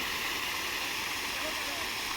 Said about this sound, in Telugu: రకరకాల వాటర్ ఫౌంటైన్లు అయితే మనం ఈ గార్డెన్లో అయితే చూడవచ్చు